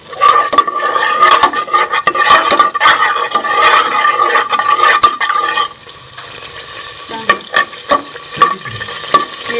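About a spoonful of ghee melts and sizzles in a cooking pot, a loud, close, steady crackling fry with occasional clicks and knocks, fading to a quieter hiss punctuated by sharper pops.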